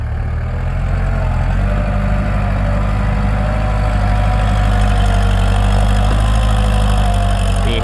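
A used Kubota L4708DT tractor's engine runs steadily in a rice field, a loud, close, continuous low diesel drone with no break.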